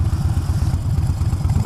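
Motorcycle fitted with a Vance and Hines exhaust idling loudly up close, a deep, lumpy rhythmic burble of rapid exhaust pulses, steady and uninterrupted.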